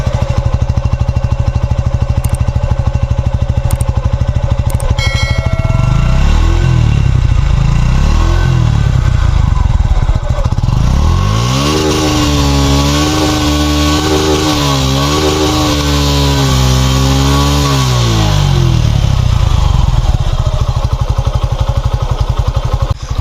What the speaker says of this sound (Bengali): আমার বাইকটা এখন স্টার্ট দেওয়া অবস্থায় আছে তো আমি আপনাদেরকে সাউন্ডটা শুনিয়ে দিই